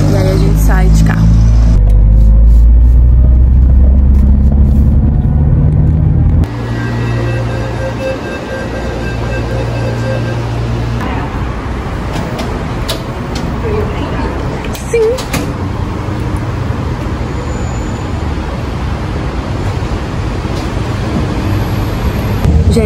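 Riding in a car: a steady low engine rumble fills the first few seconds, then gives way to a broader road and wind hiss as the car keeps moving, with indistinct voices faintly underneath.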